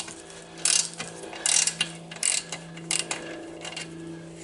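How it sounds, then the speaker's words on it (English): A ratchet wrench loosens a pinch bolt on a Yamaha Venture motorcycle, producing quick bursts of close metallic clicking in an irregular rhythm with short gaps between strokes. "we have to loosen this pinch bolt"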